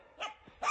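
Kangal dogs give two quick, fairly loud barks close by in a brief burst.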